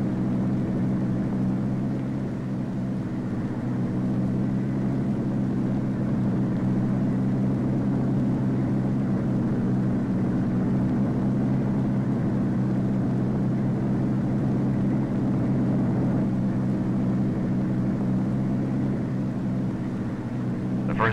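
Loud, steady drone of aircraft engines roaring continuously during takeoff, a deep sustained rumble with little change over time.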